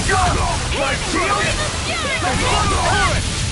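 A water attack splashes in a Tales of Arise battle, a loud continuous slosh and rushing wash lasting the whole moment, with chirping, sweeping effects and game voices layered over it.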